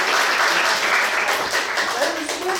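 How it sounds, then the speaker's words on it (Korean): A lecture audience in a hall applauds at the end of a special talk on multicultural society, a loud, dense, continuous clapping that holds steady for the whole stretch, with voices mixed in. "박수 한번 주십시오."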